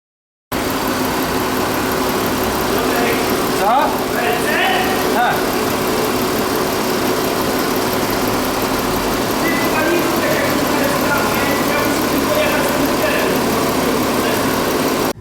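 A 2004 VW Phaeton 3.2 V6, freshly tuned and running on BRC LPG, idles loud and close with a smooth, even hum throughout, and voices come through briefly.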